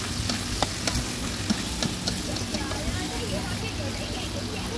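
Straw mushrooms and sliced luffa sizzle in a pan with golden fried garlic, a steady hiss with light clinks of stirring throughout.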